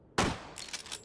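A single loud gunshot in the VR video game Hot Dogs, Horseshoes & Hand Grenades, a sharp close crack followed by a short ringing tail.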